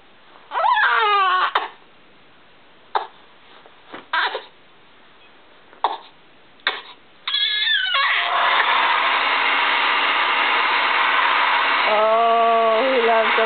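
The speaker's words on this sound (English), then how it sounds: "Oh, who loves a blow dryer?" A hair dryer switches on and blows with a steady, loud whooshing drone, preceded by a few brief cries and fussy vocal sounds from a baby.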